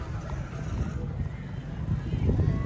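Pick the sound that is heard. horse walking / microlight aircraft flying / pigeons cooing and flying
horse walking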